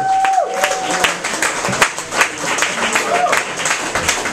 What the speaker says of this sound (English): One more round of applause for Mr. Bryan Preston, everybody.